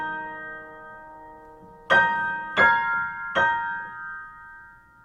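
Three bright, bell-like notes are struck in the upper range of a Seiler ED-132 upright piano, each ringing out and decaying, spaced about a second apart in a quiet room.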